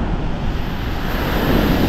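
Strong wind roars and buffets the microphone continuously, a loud steady rush with no voices, during night fishing.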